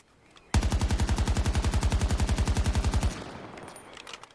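Sustained automatic rifle fire from a weapon firing 5.56x45 NATO rounds in the shooter game Battlefield 2042, a loud, rapid, evenly spaced burst of about two and a half seconds followed by a fading echoing tail.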